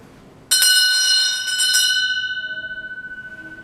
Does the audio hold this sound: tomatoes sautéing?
no